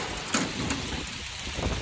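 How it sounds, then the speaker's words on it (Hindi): Heavy hail pelting down outdoors in cold weather, a dense continuous hiss of impacts with a few sharper hits standing out, steady and fairly loud with no talk. "ओले पड़ रहे हैं बहुत बुरे वाले।"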